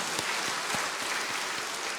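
A congregation applauds the choir and worship team at a Sunday evening church service, a faint, even wash of many hands clapping together, steady for the whole span.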